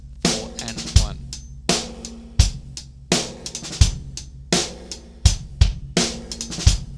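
Drum groove with a right-hand five-stroke roll played on the hi-hat, crisp stick hits in a repeating rhythmic pattern punctuated by kick and snare accents, close and clear with no talking.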